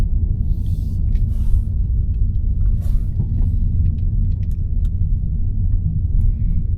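A Mazda 3 Turbo with a Corksport downpipe and tune cruising, heard from inside as a steady, loud low engine and road rumble with light rattles on top.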